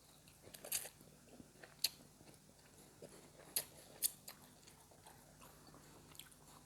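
Someone bites and chews cilor, a street snack of starchy dough coated in egg, giving a few crisp, close crunches spaced through an otherwise quiet stretch.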